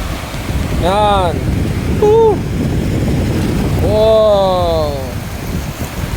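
Sea waves roll in one after another on the shore at Mauban, Quezon at night, a steady wash under wind noise, with someone talking over it.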